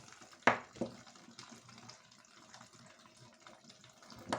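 Quiet trickling water drains steadily from a water heater, with a couple of sharp clanks near the start and another at the end.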